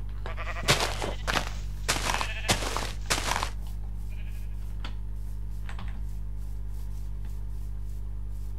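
Sheep in the Minecraft video game give a series of five or six short, loud, rhythmic bleats over a steady low hum, followed by quieter game sounds.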